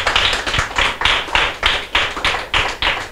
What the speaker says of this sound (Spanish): fuerte aplauso para ella